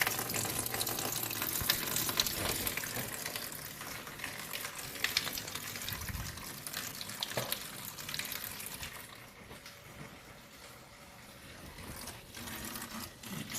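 Windshield washer fluid drains from a removed, partly frozen washer pump in a car, a continuous close trickling and splashing that is louder at first, then thins to a quieter dribble.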